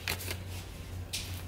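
Tarot cards are shuffled in quiet, faint bursts: one brief riffle at the start and another about a second later, with near silence between.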